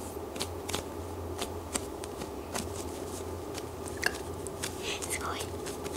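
A large, soft, slow-rising cake-shaped squishy toy with a strawberry on top is squeezed, giving faint crinkly rustles and soft scrunching pops close up over a quiet background.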